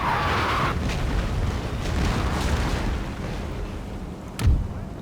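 Cannon artillery fire in the video game Napoleon: Total War, a dense rumbling barrage of distant booms across a battlefield, with one sharper nearer blast toward the end and no talk.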